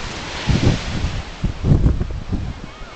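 Wind gusts and rolling ocean surf on a Kauai beach, with swells of noise building and fading every second or so, close and fairly loud against steady wind rumble on the microphone.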